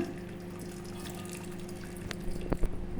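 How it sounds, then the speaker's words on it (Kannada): Water drains from cooked greens for a peanut curry, trickling and dripping steadily against a low hum before a few louder splashes near the end. "ಈಗ ನೀರೆಲ್ಲ ಬಗ್ಸ್ಕೊಂಡ್ಬಿಡೋಣ ನೀರು ಬಗ್ಸೋಣ"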